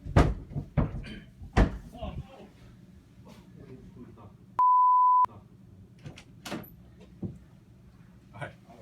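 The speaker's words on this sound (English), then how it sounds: "All right, close that door." A door is shut during a club gathering: several sharp knocks and a thud stand out over a room of people talking, and a steady electronic beep cuts in briefly midway.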